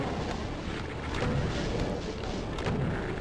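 Continuous dense rumble of Doom II combat as hitscan enemies fire on the player, a steady wash of overlapping gunfire and explosions with no clear gaps, loud throughout.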